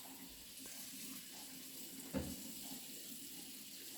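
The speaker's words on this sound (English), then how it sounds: "If you hear water running, that's just cleaning up." Kitchen tap runs steadily during cleanup, a soft continuous hiss of flowing water heard at a moderate distance, with one brief clunk partway through.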